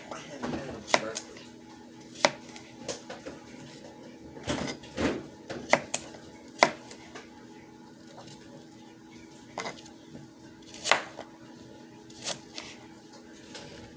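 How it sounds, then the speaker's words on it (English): Apple core slices for a snicker salad are chopped on a cutting board, with scattered sharp knife taps at an uneven pace beneath a steady hum. "We're going to chop up these core slices."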